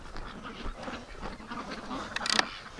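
Ducks quacking outdoors in winter, a busy, continuous chatter of several birds at moderate distance, with a sharper burst of calls near the end.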